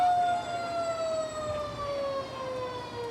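Fire engine sirens wail at a town parade, several long, steady tones gliding slowly downward, held at a moderate distance over a low rumble of engines and crowd noise, with no talk.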